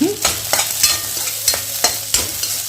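Sago pearls roasting in hot ghee in a kadhai, a close, dense sizzle broken by quick rhythmic scrapes of a spoon stirring every half second or so.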